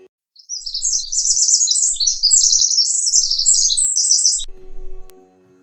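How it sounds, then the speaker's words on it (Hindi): A bird sings a bright, rapid warbling song, loud and close, running for several seconds before stopping abruptly against near silence. "इतनी मधुर आवाज में कौन सा पक्षी गा रहा है?"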